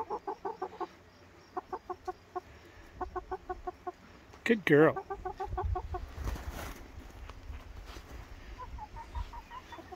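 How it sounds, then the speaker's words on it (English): Several chickens cluck in short bursts close by, with a sharp squawk midway, while a person speaks softly. "Beautiful bunch of chickens."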